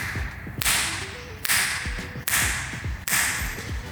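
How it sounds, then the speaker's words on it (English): Four sharp, whip-like cracks ring out at a steady pace in an echoey room partly laid with carpet tiles, captured with no noise cancellation, each leaving a bright reverberant tail before the next. "As you can hear, it's pretty echoey still."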